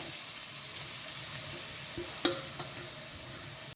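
Pieces of radish sizzle and crackle in hot oil for radish chutney, a steady frying hiss with a couple of sharp clinks from stirring.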